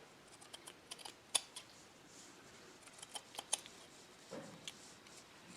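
Sharp scissors trimming lace on a canvas bag, producing a quick series of light snips and ticks that come in small clusters, close and quiet against soft background hiss.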